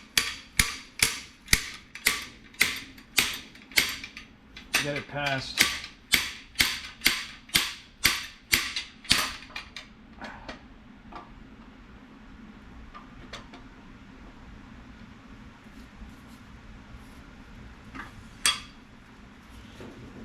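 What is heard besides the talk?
slide hammer pulling engine camshaft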